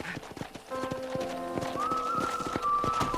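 Steady clip-clop of horse hooves at a walking pace in the video game Red Dead Redemption, with a brief whinny and a high whistling tone overlaid, sounding synthetic like game audio.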